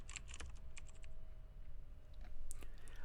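Fingers tap out a spreadsheet formula in Google Sheets on a computer keyboard, a quick close run of light clicking keystrokes in uneven bursts with short pauses, no voices.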